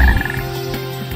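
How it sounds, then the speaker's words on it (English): A frog croaks in the video game Sonic Heroes, a short, loud, throaty croak that repeats quickly within about a second, standing alone with no talk. "Detecting a frog in the vicinity."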